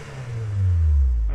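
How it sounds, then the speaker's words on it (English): Honda S2000 fitted with an HKS exhaust, warmed up and revved in place: one rising rev swells to a loud, deep engine roar close by, then holds near its peak, with no voices. "It's warmed up now. Let's see how this exhaust sounds."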